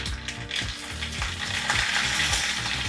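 Mustard seeds, byadagi dried red chillies and curry leaves crackle and sizzle in hot oil for a tempering, a dense close spitting hiss with sharp pops and a low rumble throughout, no voices.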